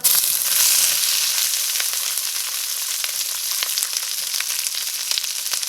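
Loud, steady sizzling of red pepper frying in a hot pan, a dense crackling hiss with occasional pops, close up and without any talking.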